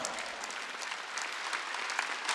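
A congregation at a Wednesday church service applauds, a dense steady patter of many hands clapping together for a couple of seconds, moderately loud and without a break.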